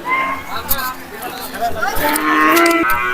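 A medium-sized cow at a busy Eid cattle market in Kalampur gives a loud, drawn-out moo up close, with crowd chatter and voices around it.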